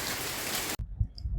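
Heavy morning rain pours down in a dense, hissing wash over a Kerala plot where fertilizer is being applied, then cuts off abruptly to a quiet, muffled background.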